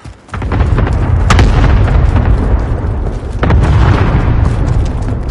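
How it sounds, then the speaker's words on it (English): Cluster strike explosions hit in Call of Duty Modern Warfare, a string of loud, heavy booms that rumble on and on, with a sharp crack near the start and another blast midway. "Enemy cluster strike incoming."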